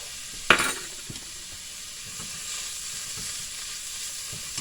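Peppers go into a pan of frying potatoes with a sharp, loud sizzling burst at the start. A steady, softer hiss of frying then continues with a few faint stirring taps.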